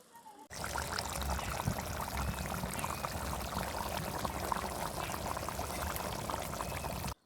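Shing fish go into a pan of simmering tomato curry, giving a steady, even sizzle and bubble that holds for about seven seconds with no talking.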